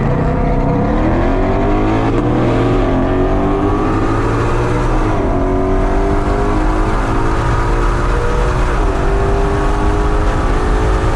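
A 2020 Shelby GT500 at Sonoma Raceway roars loudly and continuously, its engine note rising through several gear pulls and surging revs, heard close and alone without talk.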